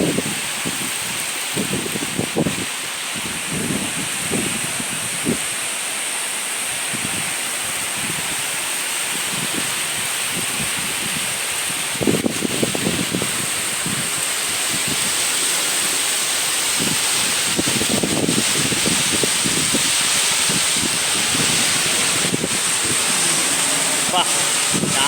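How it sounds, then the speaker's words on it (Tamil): Wind gusts and spraying rain hiss steadily, with scattered splashes and rustles throughout the whole stretch, during a rainstorm. "காற்று வீசுது சாரல் அடிக்குது"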